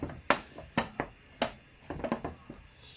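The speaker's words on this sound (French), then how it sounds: "je remets sur le feu et je mélange afin de faire sécher ma pâte" A spoon or spatula scrapes and knocks inside a saucepan of choux pastry dough drying over heat, irregular clacks and scrapes repeating steadily at close range, no one talking.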